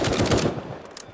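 Machine gun fire in the VR shooter Firewall Zero Hour, a rapid rhythmic burst of close, loud shots that stops partway, followed by a few faint clicks.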